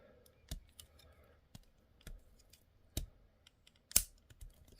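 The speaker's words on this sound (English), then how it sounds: "We take the wings here and you will fold them in." Small plastic clicks and snaps come from a Machine Robo Jet Robo toy as its wings are folded in, a handful of sharp, close, isolated clicks spaced about a second apart against near silence.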